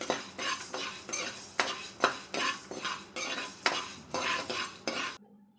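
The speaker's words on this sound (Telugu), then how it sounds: "ఒక గరిట మినపగుళ్ళు ఇంకా ఒక గరిట పచ్చిశనగపప్పు తీసుకోవాలి. వీటిని కూడా లైట్గా ఫ్రై చేసుకుందాం." A metal ladle stirs black gram and chana dal lightly frying in a pan, making rhythmic scraping strokes and clinks about twice a second with a faint sizzle underneath, close and clear, until the stirring stops abruptly.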